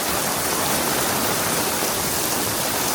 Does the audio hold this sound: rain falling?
yes